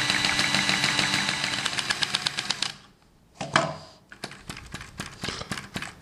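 A Sai Hu V1-45 vacuum engine being turned over at a steady, moderate speed to preheat its cylinder gives a rapid, even mechanical clatter up close. It stops briefly partway through, then resumes with sharper, more irregular ticks.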